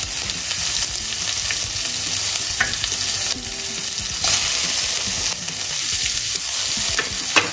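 Beans paruppu usili fries in a pan, giving a dense, continuous hiss and sizzle with some stirring scrapes, loud and close throughout, with no talk.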